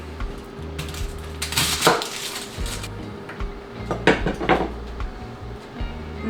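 Onion and garlic being chopped on a chopping board, with irregular clusters of knife taps and board knocks close by over a faint background hum.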